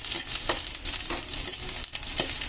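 Garlic frying in hot oil in a home kitchen pan while cooking split moong dal with green banana curry, a steady bright sizzle with a few stirring scrapes throughout, close and continuous with no talk.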